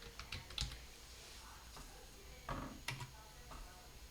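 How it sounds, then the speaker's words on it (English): Faint, scattered clicks of typing on a computer keyboard, a few quick keystrokes in short bursts at low level with no talking. "So up here, I can type in"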